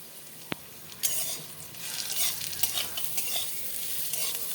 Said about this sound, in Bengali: পুরো লাল করে ভেজে নিতে হবে খোসাটাকে